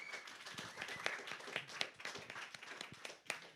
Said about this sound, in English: Can we give a big round of applause for all of our attendees here in the hotel?